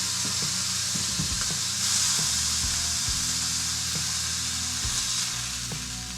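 Backstrap venison sears in a pan, giving a steady, close sizzle throughout with low clunks and faint background hum.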